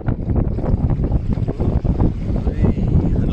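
Breeze blowing steadily across a Mirror dinghy sailing on the River Medway at Chatham, a loud, continuous rushing wind buffeting the microphone close up, with faint water sounds beneath and no speech.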